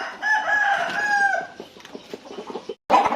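A rooster crows loudly and close on a Thai chicken farm, one long drawn-out call with hens clucking around it, then a short gap before more farmyard noise.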